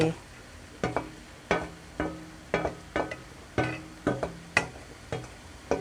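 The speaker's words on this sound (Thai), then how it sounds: "แล้วก็ผัดคลุกเคล้าให้เข้ากัน" Pork and egg being stir-fried with Chinese celery and spring onion in a pan, a spatula scraping and tossing in a steady rhythm of clacks over a soft sizzle.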